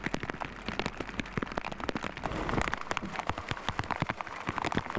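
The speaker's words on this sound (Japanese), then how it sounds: "突然の雨に叩き起こされた親子。" Sudden rain falls in the wild, a steady close hiss of drops with scattered sharp patters and taps throughout, rising a little midway, with no voices.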